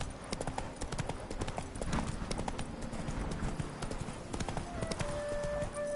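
Roach, the horse in The Witcher 3 video game, gallops with rapid, rhythmic hoofbeats pounding steadily and close, a continuous clip-clop drumming that carries through the whole stretch with little else over it.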